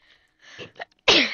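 A single loud sneeze bursts out near the end, after some quieter rustling and faint vocal sounds, sharp and close with a quick fading tail.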